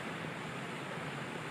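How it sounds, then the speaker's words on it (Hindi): Flowing streams and waterfalls rush in the green hills of Samani, Azad Kashmir, a steady, faint, continuous wash of water with no talk. "यहाँ पर ये बहते हुए नाले हैं और आबशारें हैं"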